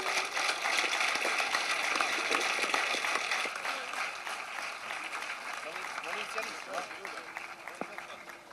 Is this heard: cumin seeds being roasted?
no